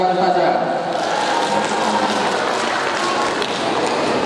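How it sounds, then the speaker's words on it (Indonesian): Steady applause from the audience at a school farewell ceremony, a broad continuous wash of clapping hands lasting throughout, fairly loud and even. "Tepuk tangan buat ustazah-ustazah."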